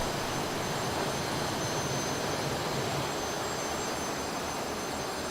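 Cessna T-37B Tweet jet engine in Microsoft Flight Simulator on a military training flight, a loud, steady, high-pitched jet whine and roar heard alone without talk.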